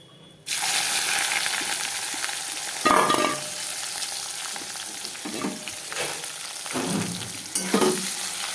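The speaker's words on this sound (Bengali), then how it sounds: "আর এখন এখানে কুচানো পেঁয়াজটা দিয়ে দেবো।" Chopped onion and bay leaf frying in hot oil in a pan as the base for a goat meat curry: a steady close sizzle with occasional stirring scrapes, and a louder hiss as the onion goes in.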